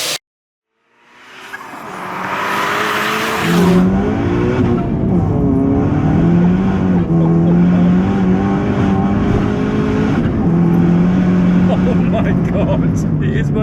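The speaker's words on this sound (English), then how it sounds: "We'll get it fired up and go for a spin." A 484 bhp VW Polo GTI 6C running on E85 fires up after a brief silence, its engine catching and then settling into a loud, steady idle and drone, close to the microphone.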